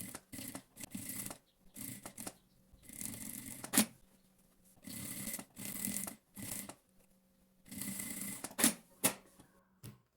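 A sewing machine stitches a zipper onto a half-moon hobo bag, whirring in repeated short bursts with brief pauses and faint handling clicks between runs.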